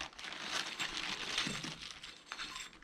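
Crisp plastic crinkling, close and continuous, as a bag holding gloves for a portable camping stove is handled for a few seconds with irregular rustles and crackles.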